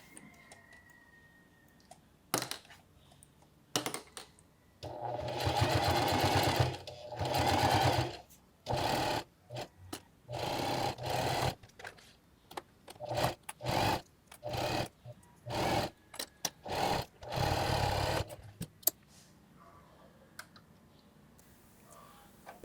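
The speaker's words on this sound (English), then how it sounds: "it's time to start sewing" A sewing machine stitching a fabric cell phone pouch, running in a long steady burst and then many short start-stop runs, close up, with faint clicks and handling noises between them.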